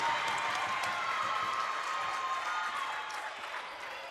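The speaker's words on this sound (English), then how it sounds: "we have a very lively crowd here on our side of the court" A packed gym crowd at a volleyball game claps and cheers in a dense, continuous roar that stays loud throughout and eases slightly near the end.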